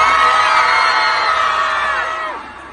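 Fans at a live meet-and-greet event scream and cheer together in a loud, sustained crowd roar that fades toward the end.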